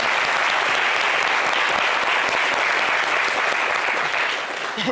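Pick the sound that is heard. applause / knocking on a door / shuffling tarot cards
applause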